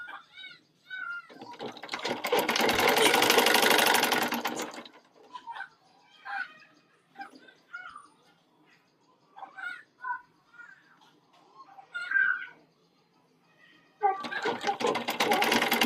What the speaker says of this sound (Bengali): এই পুরো গলাটা সেলাই করে নিতে হবে।